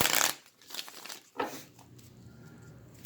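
Tarot cards shuffled by hand during a love reading: a dense riffling burst at the start, a shorter flurry near the middle, then quiet rustling handling, close and alone.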